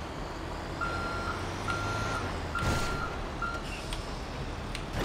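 A truck's reversing alarm in GTA 5, four evenly spaced electronic beeps over a broad rumbling engine and road noise, with a brief hiss partway through.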